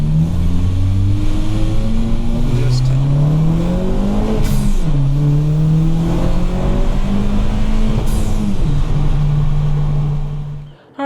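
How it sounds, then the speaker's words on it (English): A 2024 Honda Civic Sport Touring with a six-speed manual accelerates hard, its engine note climbing steadily through several gear changes with brief dips between rising pulls. It stays loud and close throughout, with no talking. "This car still is plenty fast, gets up to speed really quick"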